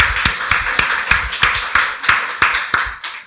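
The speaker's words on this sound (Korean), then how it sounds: "박수로 하나님께 영광 돌리겠습니다." A church congregation at Sunday worship claps to glorify God, sharp evenly spaced claps in a steady rhythm, close and fairly loud with no talking.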